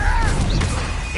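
A Bombarda blast spell going off in Hogwarts Legacy combat, a loud, dense crash with whooshing, sweeping tones layered over a heavy low rumble, lasting about a second.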